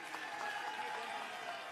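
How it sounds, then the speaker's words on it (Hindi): An audience claps in a short, dense burst of applause, steady and moderately loud for under two seconds. "तो एक बार जोरदार ताली बजा दीजिए इनके लिए"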